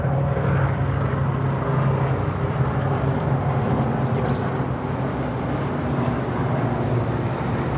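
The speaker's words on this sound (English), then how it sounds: "Helicopter." A helicopter drones steadily overhead, a loud continuous rotor rumble that fills the whole stretch without fading, while a person talks beneath it.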